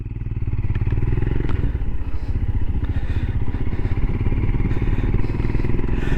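A Royal Enfield Himalayan motorcycle rides along, its single-cylinder engine thumping steadily and close with a constant mid-range drone and wind, no talking.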